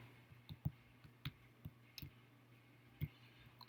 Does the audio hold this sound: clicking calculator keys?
yes